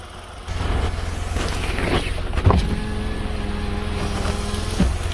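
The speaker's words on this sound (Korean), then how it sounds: "그래도 엔진 소리는 나쁘지 않고 진동 떨리는 것도 이 정도가 일반적입니다" A Kia Morning's engine starts and settles into a steady idle, a low continuous hum with a faint tonal whine. A couple of brief mechanical clunks sound over it.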